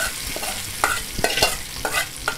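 Spices being tempered for dal and pepper rasam sizzle and crackle in hot oil in a pan, with a few sharper pops and the scrape of stirring.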